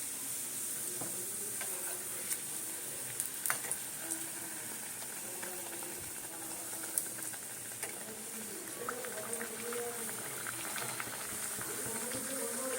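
Palm-fruit luchi deep frying in hot oil, a steady close sizzle and bubbling with occasional small pops and stirring sounds, no voice.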